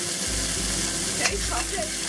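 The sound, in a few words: beef searing in a wok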